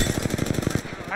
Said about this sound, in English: Getting shot at. Taking fire, Rose.